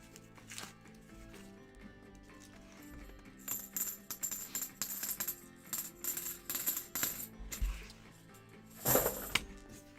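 Coins from coin rolls being handled during a silver coin hunt, a rapid series of close metallic clinks and jingles in irregular bursts, louder near the end, with no talk.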